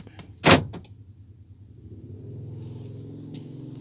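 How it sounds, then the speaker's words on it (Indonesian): The central door lock module of a Daihatsu Sigra snaps the doors locked with one short, sharp clunk, followed by the low, steady rumble of the idling car. "Injek rem, maka semua switch pintu akan terkunci."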